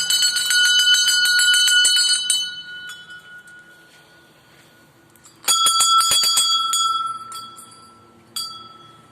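A temple bell at a Shiva temple rings repeatedly in quick strokes, then fades, and is struck again in a second burst of ringing before a final single strike.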